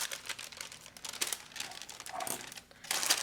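Crisp crinkling and snipping rustles come in short bursts, close and fairly quiet, as scissors cut through thin plastic wrap.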